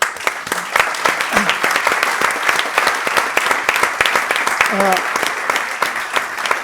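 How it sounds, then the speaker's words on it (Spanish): Audience applause fills a talk venue after a presentation, steady dense clapping throughout with a few faint voices underneath. "Vamos a darles un aplauso."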